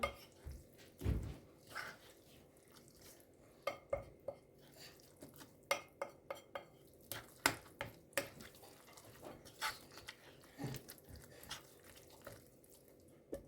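Zucchini fritter batter with flour being mixed in a bowl, a quiet, irregular series of wet squelches and light clinks of the spoon against the bowl, repeating every second or so, close and with no voices.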